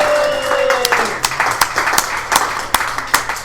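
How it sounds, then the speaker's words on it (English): A small group gives a round of applause for a recent college graduate, with scattered, uneven claps that thin out after the first second while a faint tone fades underneath. "Let's give her a round of applause."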